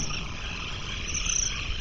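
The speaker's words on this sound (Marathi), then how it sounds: "त्यांच्यासमोर लाखो रातकिड्यांचा झुंड उभा राहिला" A dense swarm of crickets in a horror story setting gives off a loud, constant shrill chirring with no pauses.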